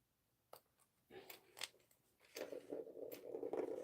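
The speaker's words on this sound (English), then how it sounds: "I will grab a pair of scissors" Scissors snip thread a few times close by while sewing a pouch, crisp metallic cuts separated by pauses, followed by soft rustling handling noise.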